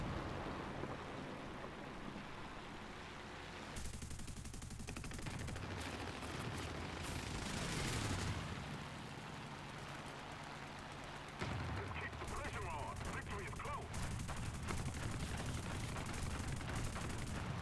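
A video game aircraft fight with French guns firing on a Russian aircraft: dense gunfire and a heavy rumble run without a break through the stretch, and the texture shifts midway with no clear pause in the shooting.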